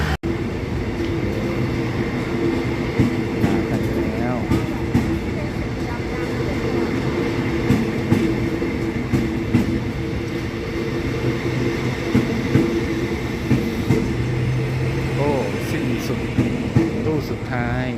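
A train rumbles steadily as it pulls away from Hua Hin station in Thailand, a low continuous drone with faint clanks, while voices murmur in the background.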